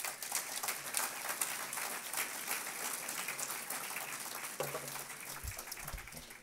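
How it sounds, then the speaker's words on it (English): An audience at a BYU Cougar Club luncheon gives a faint, steady round of applause. A few low thumps come near the end. "Let's give him one more round of applause."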